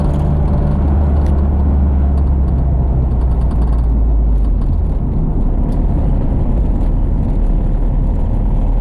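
A Honda Civic fitted with an H2B engine swap idles steadily and loud, running slightly lean, with a dense low rumble and whir that holds constant throughout with no talking.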